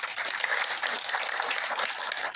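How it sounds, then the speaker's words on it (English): Dense, steady applause from an audience at a live event in Mbale, a broad wash of clapping that fills the clip without pause. "I will ask you to give yourself a round of applause"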